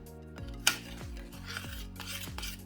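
Glaze mixture for paska being stirred in a bowl, a quiet scraping and clinking of a utensil against the bowl in a few irregular strokes, close and alone.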